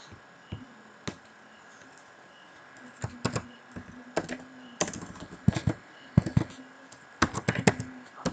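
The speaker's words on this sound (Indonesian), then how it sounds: "Ketik saja sini, kita juga bisa ngetik sendiri." Typing on a computer keyboard while entering quiz questions: sparse single key taps at first, then quick irregular clusters of close, crisp clicks, with no talking.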